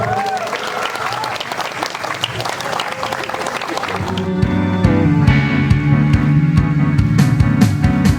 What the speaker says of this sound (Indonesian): Kita beri tepuk tangan yang meriah.